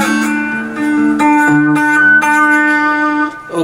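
Acoustic guitar picks out a slow country melody from a song, sliding between fretted notes and open strings with vibrato, close and clear with no talking.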